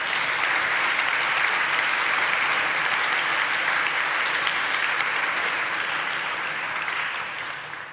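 Audience applauding the organizing office at the IPIWoCo 2021 closing ceremony: steady, dense clapping from a large crowd throughout, fading slightly toward the end.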